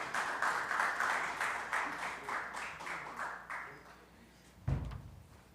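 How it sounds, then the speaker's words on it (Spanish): A lecture audience applauds the speaker, a dense wash of clapping that fades out over several seconds, followed by a single dull thump near the end. "Este aplauso es para usted."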